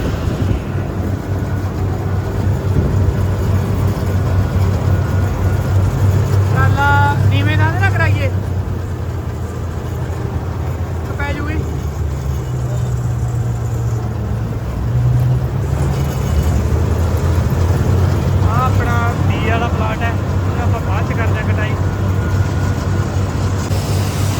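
A combine harvester rumbles continuously while moving between plots of a harvested field with its grain tank full, its low engine drone loud and close as someone talks over it.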